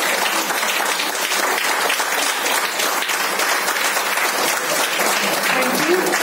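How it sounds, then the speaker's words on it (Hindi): Sustained applause from the audience at a Women's Day motivational speech, offered in honour of the men attending; dense, even clapping runs steadily throughout without any talking over it. "वो बंधुओं के लिए भी तालियां होनी चाहिए।"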